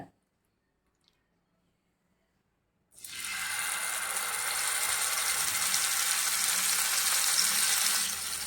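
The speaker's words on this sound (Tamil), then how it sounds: "மிச்சம் கொஞ்சம் எண்ணெய் இருந்தது அது கூடயே இன்னும் கொஞ்சம் எண்ணெய் சேர்த்துருக்கேன் இந்த மீனை பொறிக்கணும்ல" Fish hits hot oil and sizzles loudly and steadily after a few seconds of near silence, the frying continuing close up without talk.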